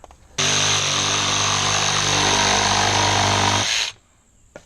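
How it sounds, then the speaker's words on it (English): A power saw runs for about three and a half seconds, a loud, steady, close whine as it cuts through material during a service truck build, then cuts off abruptly into quiet. "I would have never thought I would need this saw."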